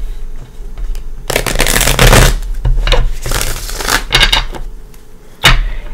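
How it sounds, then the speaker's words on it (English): A deck of Cosmic Tarot cards being riffle-shuffled up close, loud crisp bursts of rapid flicking that start, pause briefly and restart several times, with no talking. "Let me give it a couple shuffles."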